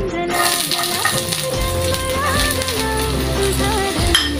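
Ginger fries in hot oil in a pan for Gobi Manchurian, a continuous close sizzle running under loud background music.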